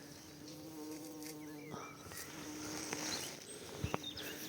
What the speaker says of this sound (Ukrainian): О, джміль літай, значить буде холодно.